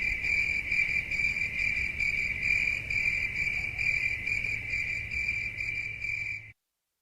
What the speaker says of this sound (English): Oh, we need the crickets again.